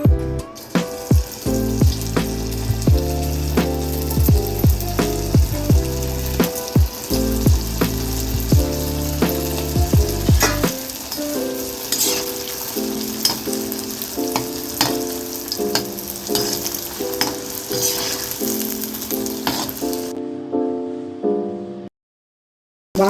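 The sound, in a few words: paneer frying in hot oil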